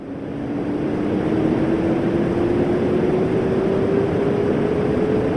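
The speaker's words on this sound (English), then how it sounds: "This is the sound of Hippocamp." A sonification of Neptune's small moon Hippocamp, heard as a steady wash of dense rumbling noise with a single thin tone gliding slowly upward beneath it, even and continuous throughout.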